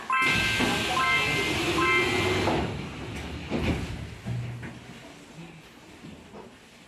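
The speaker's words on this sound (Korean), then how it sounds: "출입문이 닫힙니다." Older Busan Metro Line 1 subway train doors slide shut with a loud hiss and thud, followed by rumbling carriage noise that fades as the train settles.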